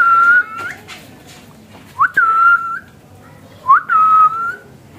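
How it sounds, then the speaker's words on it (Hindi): A person whistles a rising-then-steady tone and a pet parrot whistles back in matching phrases, three clear whistled calls spaced a couple of seconds apart, close and fairly loud with no talking. "ये जैसे ही मैं सीटी बजाता हूं ना वो देखो मेरे साथ वो भी बैक पे सीटी बजा रहा है।"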